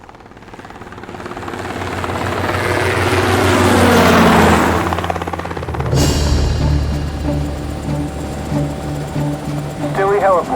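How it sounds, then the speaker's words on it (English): Aircraft on final approach to land in a radio drama, a loud rotor-like engine drone swelling to a peak then easing into a steady hum, with a voice speaking over it. "This is Atlas 402, inbound on final approach. Requesting permission to land."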